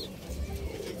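Soft, low coos from racing pigeons back from a training flight, one brief murmuring call heard faintly against a quiet background.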